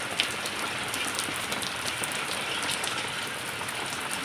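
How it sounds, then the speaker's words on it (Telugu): Heavy rain pours steadily in a village, a dense continuous hiss of drops pattering on surfaces from start to finish with no voices. "ఇలాగైతే వర్షం పడుతూ ఉంది."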